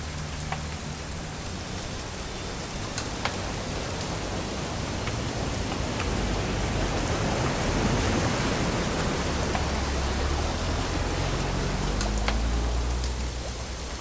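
Steady, dense rain hisses continuously at an even, fairly loud level, with no voices and no breaks, in the video game What Remains of Edith Finch.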